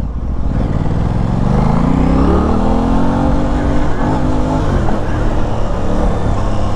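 Aprilia RS660 sport bike on a congested New York street, engine note sweeping upward then dipping as the rider downshifts with a quick blip of the throttle, loud and close amid traffic noise.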